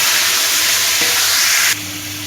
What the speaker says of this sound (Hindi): अब इसमें हम ऐड करेंगे टमाटर। बिस्मिल्लाह। और इसको हम करेंगे अच्छी तरह मिक्स।